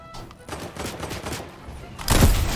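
Burst of gunfire from a pistol in a first-person shooter match, with rapid sharp shots across the clip and a heavier, louder blast near the end, all close and punchy.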